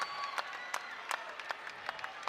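A college basketball crowd at an NCAA game between Utah Valley and New Mexico State cheers and claps during a timeout as seniors are substituted out. The applause is a continuous, fairly distant roar with sharper claps scattered through it.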